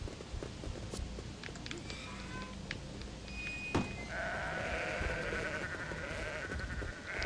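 Sheep bleat in a video game sheep-herding minigame in Sudeki, several short bleats and calls scattered over a steady background of game ambience and music, with light footstep-like clops.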